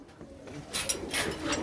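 Pigeons kept by a pigeon fancier give soft, low cooing in a few short, fairly faint bursts over a steady background hiss.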